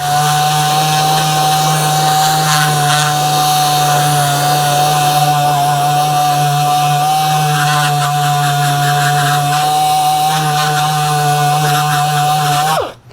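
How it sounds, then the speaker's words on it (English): A dual action air sander with a red Scotch-Brite pad runs on aluminum, giving a loud, steady high whine with a constant rough buzz underneath. It holds unbroken for about thirteen seconds, then cuts off abruptly. "this is just the red Scotch-Brite, like I say, on a dual action air sander."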